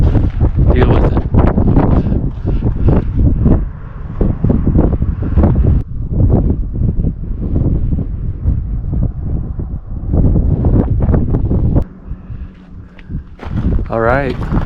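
Loud wind blasts against the microphone in rumbling gusts, easing briefly near the end, while a person talks underneath.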